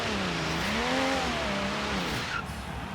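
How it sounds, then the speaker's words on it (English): A Toyota Supra MK3 drift build revs hard in Forza Horizon 3, its engine note sweeping up and down in pitch over a steady, loud roar, with no talking. "Now it does sound a little bit different than the 2JZ, not as like proper mental, but still a great sounding car."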